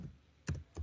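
Typing on a computer keyboard while writing code, two or three quick, faint key clicks close by, with no voices.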